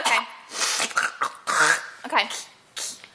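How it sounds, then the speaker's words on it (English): Repeated throat clearing and coughy rasps from a child, close and loud in short bursts with breaths between, mixed with voice sounds. "Clear your throat"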